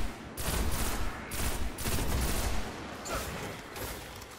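Enemy gunfire in the video game Destiny: dense, continuous bursts of rapid automatic shots and fusillade crackle fill the whole stretch, loud and close, with no talking.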